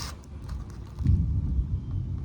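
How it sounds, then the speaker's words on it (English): A low, distant rumble swells about a second in and rolls on quietly beneath faint background noise. "Oh, wow. We're going to get a storm."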